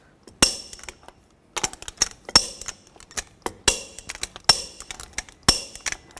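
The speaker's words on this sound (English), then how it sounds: "Now I'm going to tighten these lug nuts to 140 foot-pounds in a cross pattern or star pattern" Torque wrench tightening lug nuts on a 2000-2006 Chevy Tahoe wheel, a series of sharp metallic clicks and clanks in irregular bursts, close and crisp with quiet gaps between.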